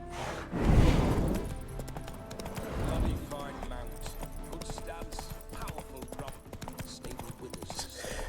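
Horse hooves clip-clopping in The Witcher 3, a steady run of hoof falls under a dense game soundscape with whooshes and a few louder thumps near the start.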